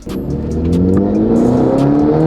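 An F30 BMW 330e fitted with an ARMASPEED cold air intake revving hard and accelerating, its pitch climbing steadily with a loud intake roar, close up, with no talking.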